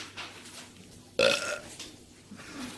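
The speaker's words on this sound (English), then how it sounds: "That was a good burp." A baby lets out a single short, loud burp that stands out sharply against an otherwise quiet room.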